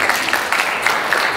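A short burst of audience applause, steady clapping from a crowd, heard alone.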